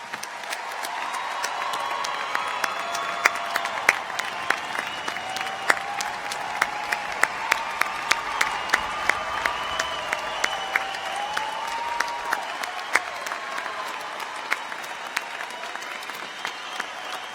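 A large commencement crowd at the University of North Georgia applauds the graduating class in a steady, loud wash of clapping that lasts throughout, with scattered distinct claps standing out and a few faint cheers mixed in.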